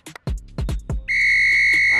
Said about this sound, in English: And that is the full-time whistle.